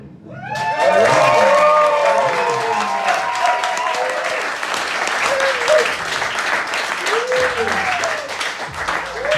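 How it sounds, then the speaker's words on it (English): A comedy show audience breaks into loud, sustained applause with whoops and cheers, continuous clapping filling the room for several seconds. "I want you guys to give a big Copenhagen tantric weirdo hug, clapping, don't touch anybody, for Alan."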